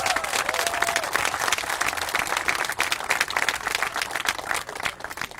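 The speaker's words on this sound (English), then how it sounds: "Let's give them a round of applause." A large crowd applauds the East High School Bears at a Kansas City event, with dense, steady clapping and some cheering that stays loud and continuous throughout.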